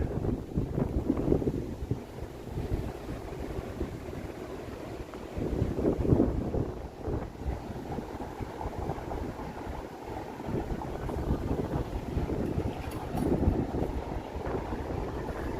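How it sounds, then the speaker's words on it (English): Wind sweeps through an alley in downtown Toronto on a Thursday evening, a steady low roaring rumble with gusty surges buffeting the microphone, with no voices. "that alley continues, but whew, wind."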